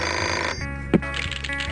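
A telephone rings after 911 is dialed in the Putt Putt Enters the Race video game, giving a steady, moderately loud bell tone over a background music bed with no speech.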